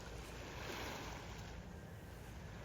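Sea waves lap against a boat's outrigger, a continuous, hissing wash of water with a wind rumble underneath and no voices.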